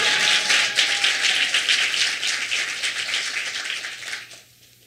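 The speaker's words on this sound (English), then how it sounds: "So another round of applause for our live." Audience applause at a team's final presentation, a steady, fairly close patter of many hands clapping that continues for several seconds and then fades out at the end.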